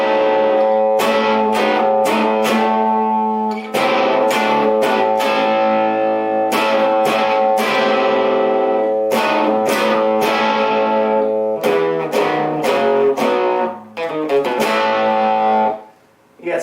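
A lighter second section of a guitar riff rings out with sustained, effect-laden tones over a droning bass note in A, in phrases with short pauses and a brief dip near the end, and no voice.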